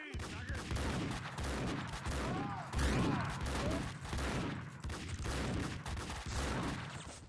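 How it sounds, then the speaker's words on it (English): Shotgun blasts and dense gunfire fill a firefight against a group of enemies in Max Payne 2, a sustained loud barrage of overlapping shots and booms with a voice talking faintly underneath. "my plan of just firing a bunch of shotgun shells at a group worked pretty well"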